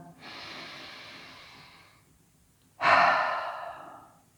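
Two slow, deep breaths during a morning yoga stretch, each a soft drawn-out breathy exhale with a pause between, the second louder and more forceful.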